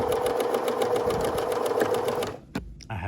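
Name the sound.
sewing machine stitching a skirt waistband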